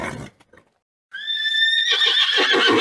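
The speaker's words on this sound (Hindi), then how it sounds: "मंटू के घोड़े के ऊपर बैठते ही घोड़ा छलांगे लगाना शुरू कर देता है।" A horse neighs loudly and clearly, a long whinny that starts abruptly after brief near-silence and rises into full, continuous sound as the animal starts leaping about with a rider on its back in an Indian village.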